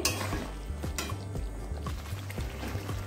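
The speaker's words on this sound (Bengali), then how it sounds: "সোয়াবিনটা দিয়েও একটু ভালো করে মিশিয়ে নিচ্ছি এই মশলার সঙ্গে।" Soybeans being stirred into a spice masala in a pot for vegetarian veg biryani, with a spoon scraping and clinking against the metal in a steady rhythm over a low background hum, close up and with no talking.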